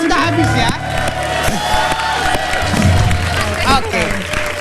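A studio audience on an Indonesian TV entertainment show claps and cheers loudly, with whoops and crowd hubbub mixed with voices and music-like tones throughout.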